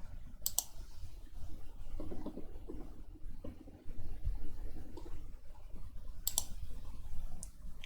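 Numbers being entered on a computer keyboard and mouse during structural software work, with sparse, close clicks and key taps scattered over a quiet room hum.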